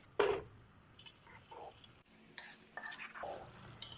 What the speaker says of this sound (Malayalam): ഇനി ഇത് അടുപ്പേ വെച്ച് നന്നായിട്ടൊന്ന് ഇളക്കിയെടുക്കാം.